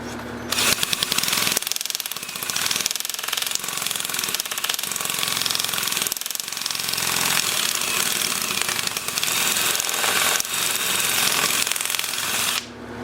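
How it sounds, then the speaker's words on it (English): Cherry burl platter turning on a wood lathe running in reverse while being sanded, giving a loud, continuous rough whirring and rasping with slight fluctuations, steady throughout with no talk. "I guess I could just sand in reverse, huh?"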